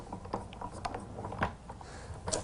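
A Vintaj Big Kick die-cutting machine is cranked by hand, giving faint, close, irregular clicking and ratcheting of gears and rollers in a quiet room with no voices.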